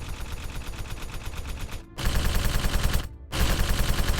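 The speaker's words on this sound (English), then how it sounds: "The kitchen erupted in a hail of gunfire from both the androids and the crew members." Sustained rapid gunfire effect in a tabletop role-playing game scene, loud dense bursts like automatic weapons, cutting out abruptly twice before resuming at full intensity.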